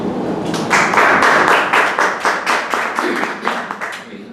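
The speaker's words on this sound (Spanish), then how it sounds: "Entonces lo recibimos también con fuertes aplausos." A small audience at a book presentation claps in a distinct, fairly close pattern, individual hand claps audible, swelling quickly then tapering off toward the end.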